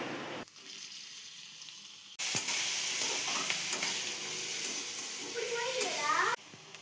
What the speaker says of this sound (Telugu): ఒక ప్యాన్లోకి ఆనియన్స్ వేసుకుని వాటిని క్రిస్పీగా ఫ్రై చేయండి